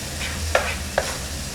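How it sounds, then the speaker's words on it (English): A spoon scrapes twice against the pot while keto jambalaya with Creole or Cajun seasoning is stirred, over a steady low simmering hiss. "All right, let's give that a mix."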